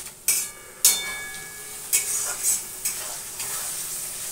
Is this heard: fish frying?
yes